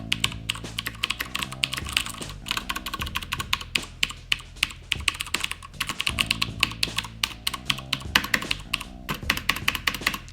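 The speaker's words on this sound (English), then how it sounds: "I'll let you hear the keys really quick so you can distinguish if this is too loud for you." Fast, continuous typing on a Das Keyboard 4 Professional mechanical keyboard with blue switches, giving a loud, crisp stream of clicky keystrokes with a few heavier spacebar hits, close up and without talking.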